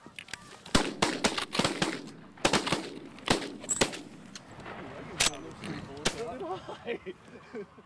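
Shotgun blasts fired at Canada geese on a goose hunt in the Delmarva outdoors, several sharp close reports spaced irregularly, with people talking and honking calls in between.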